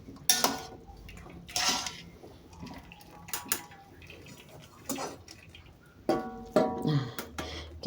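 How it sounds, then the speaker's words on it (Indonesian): Boiled bakmie noodles are drained in the kitchen: intermittent metal clanks of pot and strainer mix with splashing, running water and drips, close by and moderately loud, with no talking. "Nah, jadinya saya tiriskan di sini seperti ini."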